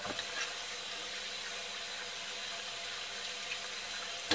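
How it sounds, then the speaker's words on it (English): Cold water runs steadily from a kitchen tap over beans in a colander, giving a soft, even hiss and splash that stays constant throughout, fairly quiet and with no voices. "And I'm gonna turn on my cold water."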